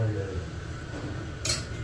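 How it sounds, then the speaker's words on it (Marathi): Dishes and cutlery clink as a thali is served with vegetable curry in a home kitchen, soft scrapes and small knocks under a low background hum, with one brighter metallic clink near the end. "फोंडेजींसाठी इथं मी ताट वाढत आहे।"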